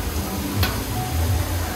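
Steady sizzling of fish frying on a hotel buffet grill, a dense crackling hiss throughout with a faint click partway.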